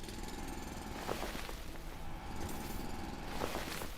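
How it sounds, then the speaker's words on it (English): Continuous grinding drill noise from boring through rock in the factory-building video game Foundry, a steady loud mechanical churn with a few sharper knocks near the start and end. "We'll drill my way out of this."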